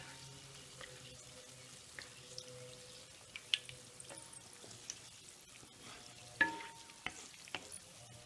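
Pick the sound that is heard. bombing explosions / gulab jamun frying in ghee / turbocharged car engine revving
gulab jamun frying in ghee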